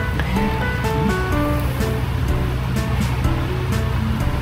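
Water pours steadily into a turtle aquarium tank during a water change, a continuous rushing, splashing wash that stays close and fairly loud throughout, with no talking over it.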